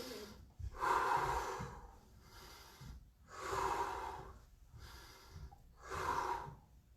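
Several people in an online karate class take long, audible breaths in, three slow swelling inhalations spaced evenly with quiet pauses between, close and fairly soft.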